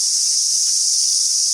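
Cicadas drone in a loud, continuous high-pitched buzz around the bays and waterways of the Marlborough Sounds, New Zealand, steady throughout with no other sounds.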